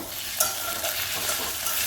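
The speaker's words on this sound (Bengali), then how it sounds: "আলু ভাজা করছি একটুখানি আলু ভাজা করব" Potatoes fry in a pan in a home kitchen: a steady, close crackling sizzle with the soft scrape of stirring, continuous for about two seconds, and no voices.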